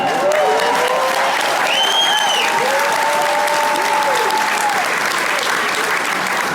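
An audience clapping together in a large room, a dense, loud burst of applause held steady for several seconds, with whistling or cheering tones rising above it.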